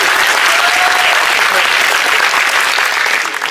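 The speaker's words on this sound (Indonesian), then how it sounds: "Boleh tepuk tangan." A large audience applauding a speech given in Jordan, dense continuous clapping that stays loud and even throughout, with a few shouts faintly mixed in.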